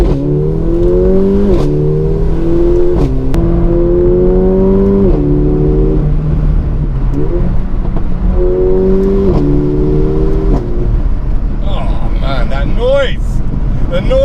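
Mercedes A45 AMG driven hard on a mountain road, engine climbing in pitch and then dropping sharply on each upshift, several shifts in a row, loud in-cabin drone with brief talk near the end.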